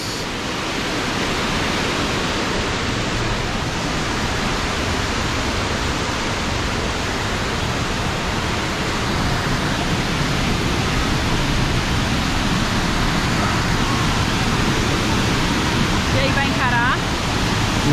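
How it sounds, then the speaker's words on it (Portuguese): Guarumos waterfall in Mindo, Ecuador, a sizable cascade with strong flow, gives a loud, steady broadband roar that fills the whole stretch without pause, close and unchanging, with a faint voice barely surfacing near the end. "a queda d'água é bem grandinha, tem bastante fluxo"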